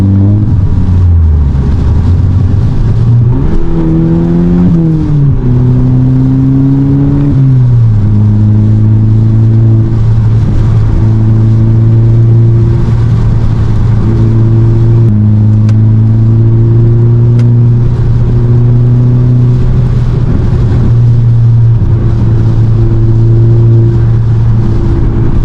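A VW Golf GTI engine drones loud and close from inside the cabin on a dark night drive, its pitch climbing through the revs with shifts, then holding a steady strained hum at speed.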